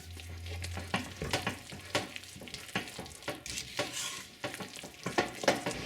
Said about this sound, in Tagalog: So, ilalagay na natin yung remaining sugar. At itutuloy lang natin yung paghahalo.